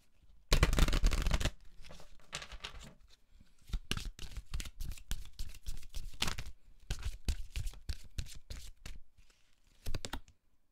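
A deck of oracle cards being shuffled by hand, a loud riffle at the start followed by repeated soft slapping and sliding bursts of cards, close and alone without talk.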